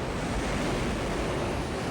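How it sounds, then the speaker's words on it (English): A waterspout churning open sea, heard as a continuous roar of waves and strong wind buffeting the microphone, loud and unbroken. "Monster waterspout."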